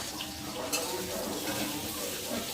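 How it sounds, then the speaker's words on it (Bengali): Potatoes fry in a pot for khichuri, giving a soft continuous sizzle with occasional stirring clatter, fairly faint throughout. "ততক্ষণ আলুটা একটু ভাজা ভাজা দিতে থাকুক"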